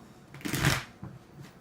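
A deck of tarot cards riffled and shuffled close up, one quick papery burst followed by a couple of softer shuffling flutters.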